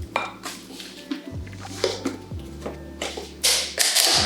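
Spatula scraping and stirring raspberry cheesecake filling in a bowl, giving a few close clinks and scrapes against the bowl over a steady low hum, with a louder clatter near the end.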